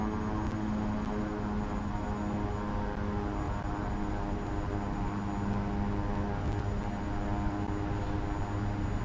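The twin propeller engines of an Embraer 110 Bandeirante in X-Plane 11 drone at full power, a loud, steady, even hum that holds unbroken from start to finish.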